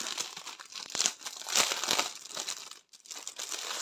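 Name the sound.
decorative envelopes being handled, paper crinkling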